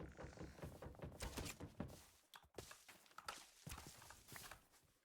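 Horse hooves clop along at a steady walking pace in the modded Minecraft video game, a busy run of dull thumps mixed with other game sounds, without talk.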